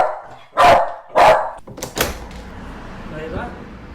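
A pet dog gives two loud, close barks a half second apart, followed by a burst of clatter like a door and then quieter household noise, with a voice speaking.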